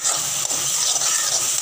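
Kashmiri red chili powder sizzles as it roasts in hot oil, a steady close bright hiss with no talking.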